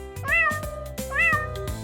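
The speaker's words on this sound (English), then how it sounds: "Cat." A cat meows twice in a row, each call short and close with a rising, then falling pitch, separated by a brief pause and heard alone.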